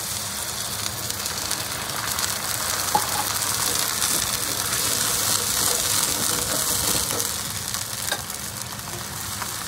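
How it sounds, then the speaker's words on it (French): White wine poured into a frying pan of browned chicken fillets, giving a steady loud hiss and crackle that carries on evenly for several seconds with no talking. "Je rajoute le vin blanc."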